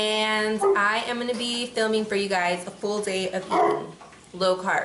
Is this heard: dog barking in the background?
yes